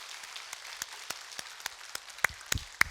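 A church congregation claps sparsely after a hallelujah: a short run of faint, separate handclaps at a steady pace, with a few sharper claps toward the end.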